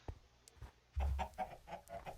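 Chickens clucking on a crowded chicken mountain in Minecraft, faint at first, then a cluster of short, repeated clucks close by in quick succession.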